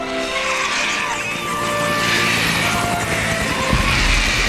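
A helicopter in the Jurassic Park The Game video game, a steady droning engine and rotor roar that holds at constant loudness throughout, with tonal whines layered over it and no speech.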